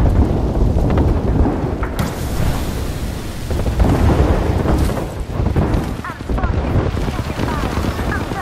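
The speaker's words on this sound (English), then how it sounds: "Heads down, airstrike danger close." Repeated heavy airstrike explosions rumble and crash continuously in a military shooter video game, loud and dense, with an in-game voice calling out over the barrage.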